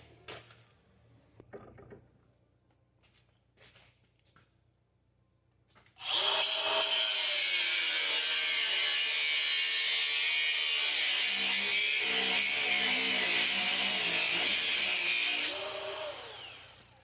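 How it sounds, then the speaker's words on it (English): At a welding bench during a repair on an IH 986 tractor step, bolts are cut with a power tool, giving a loud, steady, high-pitched grinding whine of about ten seconds that starts abruptly after faint clatter and tapers off at the end. "cut them bolts"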